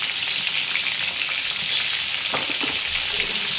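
Green chilies sizzle in a hot pan for a peanut chutney, a constant bright hiss close up with a couple of faint stirring knocks near the end and no talking.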